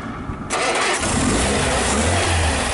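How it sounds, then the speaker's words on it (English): A Sunbeam Alpine's four-cylinder engine cranks and catches, then settles into a loud, steady running rumble close by. "sounds like a four-cylinder car now"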